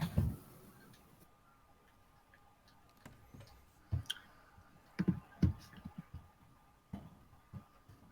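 Scattered keyboard clicks, quiet and close, tap out in irregular bursts with short pauses between keystrokes; no one speaks.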